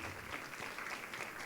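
A room of people applauds department staff at a parents' council meeting with continuous, dense clapping at a moderate level throughout, no voices on top.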